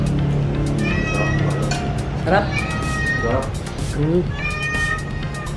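A cat in a home kitchen where adobo chicken liver and pork belly with boiled eggs is being cooked meows repeatedly in rising, drawn-out cries, loud and close, while people talk over it.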